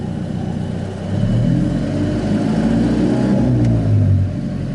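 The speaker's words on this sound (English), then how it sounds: "It's working, it's revving." An Alfa Romeo 4C engine revs up and falls back twice, rising and sinking in pitch, up close after idling, with no talk over it.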